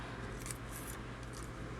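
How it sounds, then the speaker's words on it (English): Scissors snip through stencil material while cutting out shapes, a few quiet, close crisp cuts spaced apart over a low steady background hum. "you can just use scissors and cut out shapes and do it this way"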